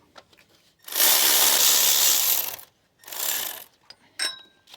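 A ratchet loosens a bracket bolt on a 1993 Toyota Corolla 1.6 engine. One long, loud run of rapid clicking is followed by a shorter run and then a single sharp metallic click nearby.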